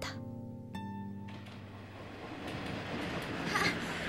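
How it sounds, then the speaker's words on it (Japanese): A train arrives at a station: a bell-like tone rings at the start, then rumbling wheels and clattering carriages build steadily louder as it pulls in nearby. "あ、電車来た。"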